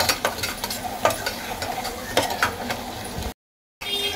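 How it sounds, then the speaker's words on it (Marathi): Finely chopped onion fries in a pan with a steady, close sizzle, punctuated by several sharp scraping stirs before a brief silent gap. "बारीक चिरलेला कांदा घालून कांदा मस्त गुलाबी रंगावरती आपण फ्राय करून घ्यायचा आहे"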